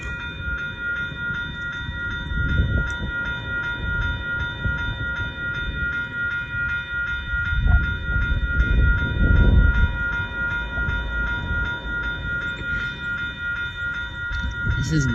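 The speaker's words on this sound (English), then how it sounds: "GO train in Stratford, Ontario." A GO commuter train passes through Stratford, Ontario, its steady rumbling wheel noise swelling and easing over fifteen seconds, with sustained horn-like tones ringing above the rolling clatter.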